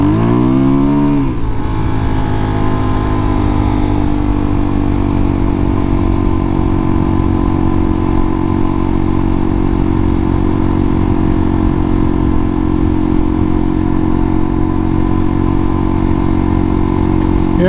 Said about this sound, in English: The bike sounds good though.